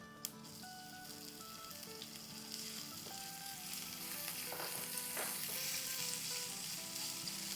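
Onions and filling for potato-stuffed chilli pakoras sauté in a pan with crushed garlic and green chillies, a steady close sizzle and fry that builds slightly louder, with occasional stirring clinks and no talking.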